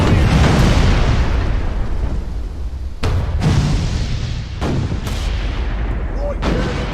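Ship cannons fire and shells explode in the VR naval combat game Furious Seas: a dense rumbling barrage punctuated by several sharp, loud booms in quick succession, with no talk over them.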